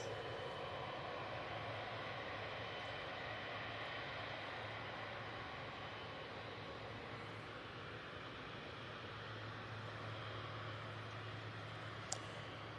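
Steady broadband roar of massive GE90 jet engines on an aircraft at Manchester Airport, continuous and even throughout with a low hum underneath and one brief sharp click near the end, no voices.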